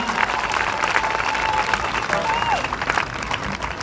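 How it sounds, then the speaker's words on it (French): A crowd at an evangelism gathering applauds loudly and steadily, with scattered cheers and shouts rising through the dense clapping for several seconds. "Est-ce qu'on peut acclamer fort?"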